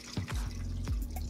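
Warm water poured into a pot for oxtail soup, a short splashing, gurgling pour with a few drips, close and clear with no talk.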